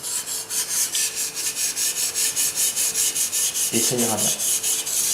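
Japanese nakiri knife, 60-62 HRC, rubbed back and forth on a coarse whetstone in steady, rhythmic strokes, close and loud, with a brief spoken phrase near the end.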